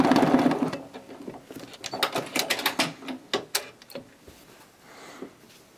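A home sewing machine runs in quick bursts of rapid mechanical stitching while free motion quilting, stopping and starting, fairly close and clear, with no talking.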